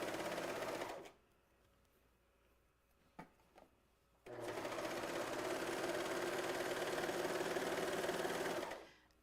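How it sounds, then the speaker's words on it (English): A serger sewing machine stitching a seam, running in a fast, steady whir for about a second, pausing through a quiet stretch with a couple of faint clicks, then running continuously for several seconds before stopping. "The serger is super fast, like way faster than your regular sewing machine."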